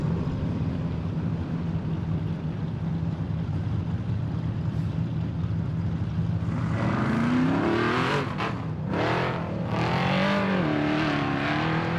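An off-road race car on a Miller chassis roars through qualifying at King of the Hammers, its loud engine surging with rising and falling revs close by.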